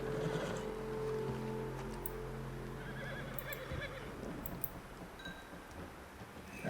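A horse in the video game Red Dead Redemption 2 neighs and whinnies loudly at the start, with clip-clopping hooves and ambient game sounds continuing after.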